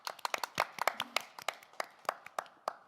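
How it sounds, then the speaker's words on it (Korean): Scattered hand claps at a forum session, a small handful of sharp separate claps in an irregular patter, fairly quiet and without talk. "큰 박수와 댓글로 응원 부탁드립니다."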